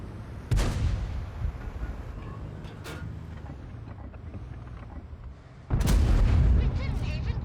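Two heavy tank cannon shots boom in World of Tanks, the first near the start and the second close to the end, each followed by a rumbling tail, with a quieter shot or impact between them over constant engine and battle noise.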